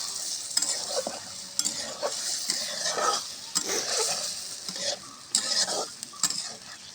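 River aikor fish stirred and sautéed in oil with a cooked-down spice paste, with scraping spoon strokes against the pan in irregular bursts over a soft, steady sizzle, close and moderately quiet.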